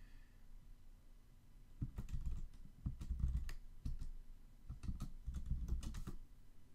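Typing an email address on a computer keyboard: quick clusters of close, soft key clicks in short bursts separated by brief pauses, alone without talk.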